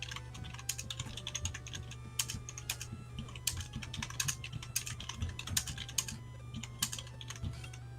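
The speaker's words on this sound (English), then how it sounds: "That sure is typing." A computer keyboard clacking steadily in rapid irregular bursts of keystrokes, close to the microphone and fairly quiet, over a low steady hum, with no one talking.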